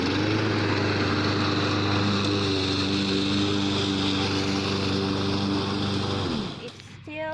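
A Black Max 22-inch self-propelled lawn mower drones loudly and steadily at close range while mowing, its engine tone dropping as it cuts off near the end.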